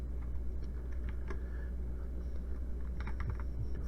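Keys clatter on a computer keyboard in a steady, close run of taps while C++ code is typed, with a low constant hum underneath and no talking.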